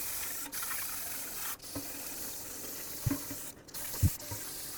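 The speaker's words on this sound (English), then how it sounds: "just use some parts cleaner, clean off the brake dust that's here" Parts cleaner sprayed from an aerosol can onto brake dust on the rear axle of a 2007 Chevy Silverado Classic, a steady close hiss with a few brief pauses and small knocks.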